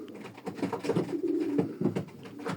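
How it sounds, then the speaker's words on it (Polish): Janssen racing pigeons cooing close by, soft throaty rolling calls repeating in an uneven rhythm, with no talking. "te gołębie linii Jansen są przygotowane do hodowli"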